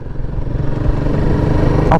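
A Royal Enfield Guerrilla 450 motorcycle engine rumbles loudly and steadily as it pulls through the revs while riding, a continuous close throaty drone with wind behind it and no spluttering.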